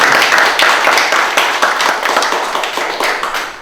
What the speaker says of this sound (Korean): 박수 크게 한번 쳐주시죠